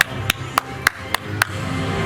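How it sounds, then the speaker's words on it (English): Staff and riders clap after the Transformers ride at Universal Studios Orlando, with six sharp, evenly spaced claps that ring out clearly over a low background murmur. "the staff start clapping"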